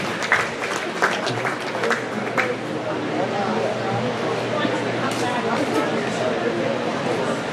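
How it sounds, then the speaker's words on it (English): A crowd applauds for the market heifer division at a county fair beef show, the sharp clapping loud at first and then thinning into a softer patter beneath crowd murmur and a low background hum. "Let's give them a nice round of applause for the market heifer division."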